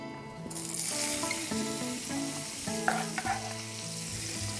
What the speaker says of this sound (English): We're gonna saute it in the frying pan that is ready to go.